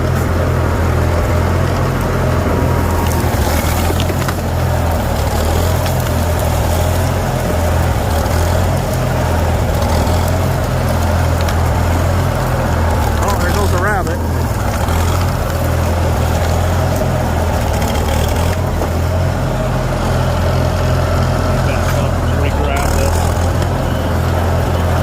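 A tractor engine, an old H model, idles steadily at close range with a deep, even low-frequency rumble for the whole stretch, while someone talks over it.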